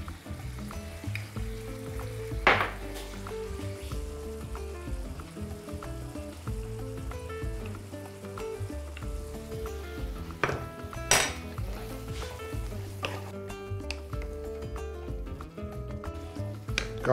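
Pork ribs seasoned with ground black pepper and honey sizzle steadily in a pan, a continuous frying crackle broken by occasional clinks of a utensil against the cookware, with no talking.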